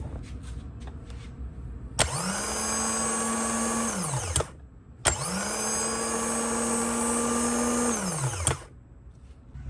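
Two long bursts from a Honda BF75/BF90D outboard starter motor bench-tested with jumper wires, each a loud high whine that spins up, holds steady, then winds down, with a short silent gap between.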